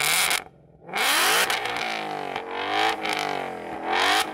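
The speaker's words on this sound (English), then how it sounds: "Go on, Yanni, rev up your engine." Modified performance car, a BMW M3 or Ford Mustang of around 850 horsepower, revving hard at a drag race sound check, loud close engine roars that rise and fall repeatedly with a brief drop near the start.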